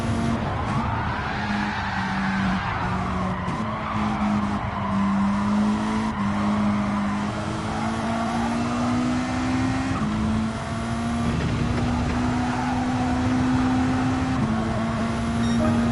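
A race car engine drones loudly and steadily in Gran Turismo 7, its pitch rising and falling through gear changes, with tires squealing over the engine.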